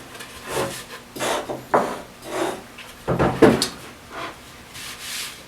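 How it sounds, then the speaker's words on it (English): Rasping, scraping strokes of a tool shaving burrs off the back of a wooden table, several uneven passes in bursts, close and fairly loud with no talk. "I'll have to shave those burrs off the back of the table."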